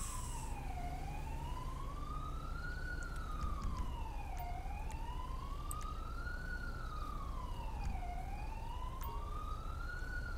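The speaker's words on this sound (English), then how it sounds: "Oh, that siren is going to drive me up the..." A wailing police siren in the game GTA V with the LSPDFR police mod rises and falls in long, steady sweeps, loud and continuous throughout, with a low rumble of traffic or engine noise underneath.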